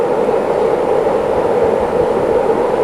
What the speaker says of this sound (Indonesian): Kereta menuju Jakarta.